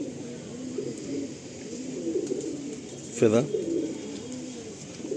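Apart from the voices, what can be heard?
tournament pigeons cooing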